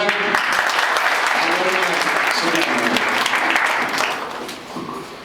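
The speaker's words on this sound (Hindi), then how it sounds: "इसके लिए आपसे तालियां चाहूंगा।" Sustained applause from an audience at a farewell ceremony for a retiring personal assistant in a forest department office, steady and full for about four seconds before thinning out, with faint voices mixed in.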